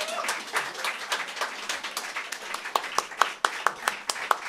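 A performer at the Klepáč 2011 stage show claps his hands, the sharp claps repeating in a steady rhythm that grows tighter and louder toward the end, close and clear.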